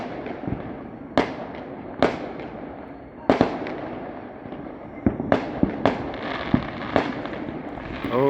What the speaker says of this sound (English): I wish there was a way to tell where the next firework is coming from.